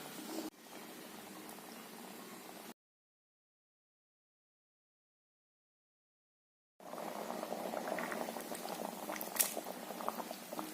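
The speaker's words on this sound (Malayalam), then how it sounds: "ചെമ്മീൻ ഇട്ട് തിളച്ചു." A prawn and drumstick mango curry bubbles at a soft, steady boil in a pot, with a stretch of complete silence in the middle.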